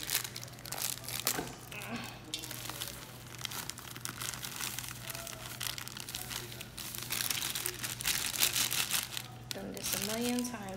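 Dull scissors cutting through packaging at home, a steady crinkling and crunching of plastic that runs throughout, with a constant low hum underneath and a brief voice near the end.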